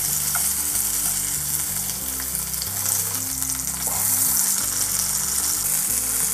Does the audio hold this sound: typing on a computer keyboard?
no